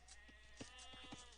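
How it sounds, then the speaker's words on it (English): A small group of sheep bleats in the Age of Empires game, several short overlapping bleats close together in quick succession over a quiet background. "Oh, little group of sheep here."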